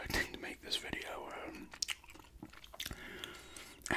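Soft, close gum chewing with wet clicks and smacks, set against whispering, in an ASMR-style recording made near the microphone.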